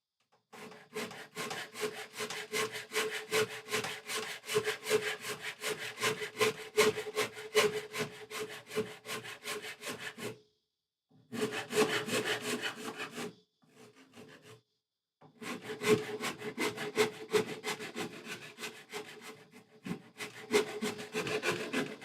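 A Shinto rasp shapes wood on a custom guitar being built, with steady rapid rasping strokes in long runs broken by short pauses, close and fairly quiet.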